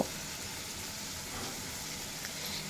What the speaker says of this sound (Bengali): দিয়ে খুব ভালোভাবে ভেজে কষিয়ে নেব